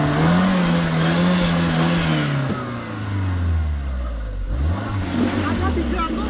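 A car stuck badly is towed out by a Gypsy, its engine revving loudly and continuously with rising and falling pitch, while someone talks over it throughout.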